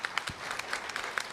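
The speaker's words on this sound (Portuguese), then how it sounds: "Vamos aplaudir Jesus." A short burst of clapping from participants at a Catholic church seminar, individual hand claps standing out in a quick uneven rhythm over a murmur of the room.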